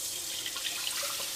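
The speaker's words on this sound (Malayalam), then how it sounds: "ഇതിനകത്ത് നമുക്ക് കുറച്ച് വെള്ളം ഒഴിച്ചിട്ട് വെക്കാം." Water is poured into a pan holding leftover Kerala fish curry with some oil remaining, producing a steady, close splashing trickle alone for a moment.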